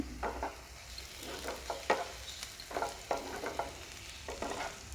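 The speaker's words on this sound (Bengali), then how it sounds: "তো দেখো, দেখতে দেখতে আমি তরকারিটা বসিয়ে দিয়েছি।" A pan of winter vegetable curry with cabbage sizzles as it is stirred, with soft scraping strokes coming in uneven bursts over a quiet frying hiss, close and fairly faint, with no talking.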